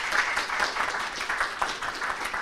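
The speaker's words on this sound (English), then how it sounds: "Please give them a round of applause." An audience claps steadily for a panel at a business forum, a dense, even wash of applause with no voices over it.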